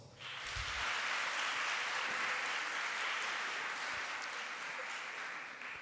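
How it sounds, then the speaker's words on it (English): An audience claps for a university vice chancellor at an academic dialogue event, a full round of applause that swells quickly, holds steady for several seconds and then tapers. "Let's give Prof. Klopper a round of applause."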